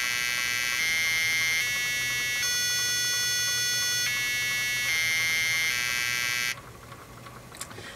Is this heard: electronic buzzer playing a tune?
yes